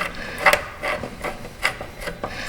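A Vessel screwdriver tightens a part on a 2016 Honda Pilot engine during a GDI injector replacement, giving several short, close scraping and rasping bursts spaced unevenly over a couple of seconds.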